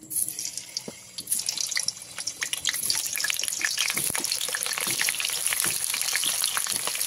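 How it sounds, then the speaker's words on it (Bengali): Cut potatoes drop into hot mustard oil for a Bengali chicken and potato curry, breaking into a loud, steady sizzle after a brief quieter moment, crackling continuously up close with no voices. "এবারে তেলের মধ্যে আমি কেটে রাখা আলুগুলো দিয়ে দেবো।"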